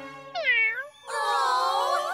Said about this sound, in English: We must get that cat.